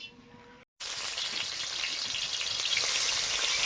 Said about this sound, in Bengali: এবার শোল মাছ ভাজছি।